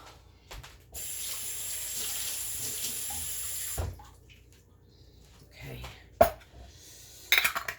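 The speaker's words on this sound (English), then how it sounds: "And then fill it to the top with water." Tap water runs into a jar packed with garlic, spices and cucumbers for homemade pickles, a steady close rush of about three seconds, followed by quieter clinks and handling noises.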